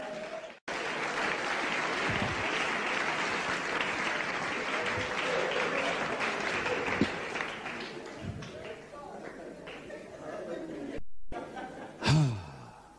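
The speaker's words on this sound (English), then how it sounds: "Clap your hand" A church congregation claps hands during a sermon, a broad sustained wash of applause with cries and voices mixed in, then a brief cutoff near the end followed by a preacher's voice.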